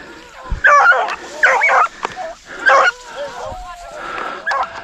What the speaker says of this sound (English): Dog gonna catch him.